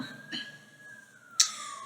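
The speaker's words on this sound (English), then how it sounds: "I just started recording while there was a siren coming up" A siren approaches at a distance, heard as a steady, faint wailing tone that slides slowly downward under quiet street ambience, with a brief sharper burst near the end.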